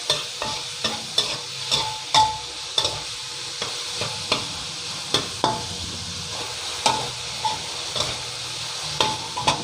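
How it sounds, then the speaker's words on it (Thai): Pork stir-fried in a wok over medium-high heat sizzles steadily while a metal spatula scrapes and clanks against the pan in repeated, rhythmic strokes, close up and without talk. "หมูผัดให้สุกพอดีนะครับ ใช้ไฟกลางๆค่อนไปแรงหน่อยนะครับ"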